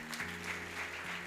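Audience at a talk applauds, a brief steady patter of clapping heard at moderate distance, with a faint sustained musical tone running underneath.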